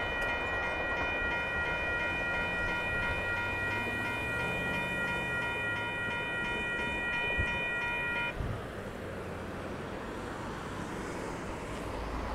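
A northbound Union Pacific limestone freight train rolls past at a crossing in Austin, Texas, its horn sounding in a long sustained chord before giving way to the continuous rumble and clatter of rail cars passing steadily.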